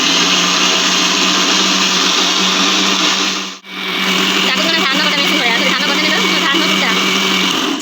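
A kitchen blender runs loudly and steadily while mango juice is made, its whirring motor filling the whole stretch except for one short dip to near silence in the middle, with voices talking over it.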